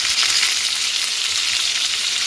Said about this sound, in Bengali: সামান্য একটু লবণ দিলাম, একটু হলুদ দিয়ে আলুগুলো লাল লাল করে ভেজে নেব।